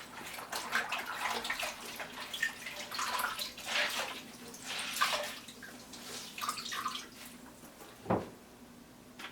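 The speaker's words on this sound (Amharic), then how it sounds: "ስለዚህ ጨርቁን ውሃ ውስጥ እናከታለን።" Cloth is soaked and worked in water, giving quiet intermittent splashes, drips and sloshing close by, with a sharper splash near the end.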